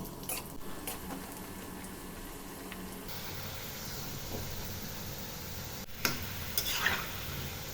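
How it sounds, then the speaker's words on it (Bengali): A batch of potatoes frying in about a cup of hot oil in a karai over medium heat, a soft steady bubbling hiss throughout with a couple of brief knocks near the end. "মাঝারি আঁচে এভাবে ১ ব্যাচ আলু দিয়ে ভেজে নিলাম।"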